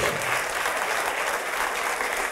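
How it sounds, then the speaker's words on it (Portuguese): A church congregation applauds in a dense, continuous wash of clapping, loud and sustained with no pauses, filling the worship hall for the whole stretch. "Vamos aplaudir ao Senhor"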